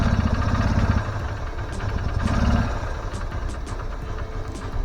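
A Honda Unicorn motorcycle with a Keihin carburettor and a cold-start problem idles close by after starting, a steady throbbing engine beat that surges at first and then settles.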